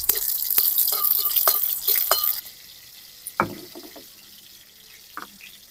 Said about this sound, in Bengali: কালো জিরে ফোড়নে দিয়ে দেবো, কাঁচা লঙ্কা ফোড়নটা আমি একটু ভালো করে করে নেব।